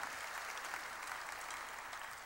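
A church congregation claps together during a sermon, a continuous, even wash of many hands that sounds distant and faint, holding steady before tapering slightly at the end.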